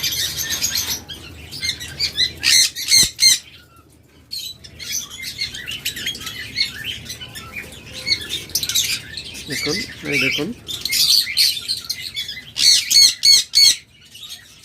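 Pet lovebirds and cockatiels for sale, including a pure white albino breeding pair, chirp and squawk in loud overlapping bursts close by while someone talks over them.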